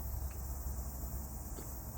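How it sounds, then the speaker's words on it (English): Cicadas drone outside an open door, a steady, unbroken high buzz filling the background at a moderate, even level throughout. "I really wanted to sit here with my door open, so probably the cicadas have been really loud."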